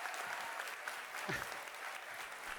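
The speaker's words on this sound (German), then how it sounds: "Applaus." Audience applause during a live Dead by Daylight 10th anniversary broadcast, a faint, steady patter of many hands clapping heard from a distance, with no voices over it.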